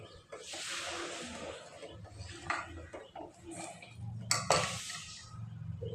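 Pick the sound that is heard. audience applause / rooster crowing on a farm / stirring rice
stirring rice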